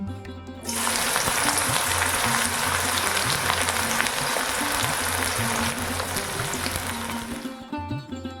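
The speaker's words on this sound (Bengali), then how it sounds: "এবার বেরেস্তা ভাজার জন্য কড়াইতে দিলাম রিফাইন্ড অয়েল গরম তেলের মধ্যে কুচনো পেঁয়াজ দিয়ে দিলাম" Chopped onions drop into hot refined oil in a kadai to fry for birista, and a loud, dense sizzle bursts in suddenly. It holds steady for several seconds before cutting off.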